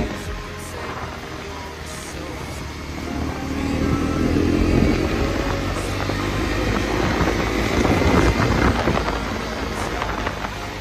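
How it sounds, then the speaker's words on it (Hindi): A KTM 390 motorcycle being ridden makes a continuous engine drone mixed with rushing wind noise that swells after the first few seconds and stays loud to the end. "मजा आ रहा है बाइक चलाने।"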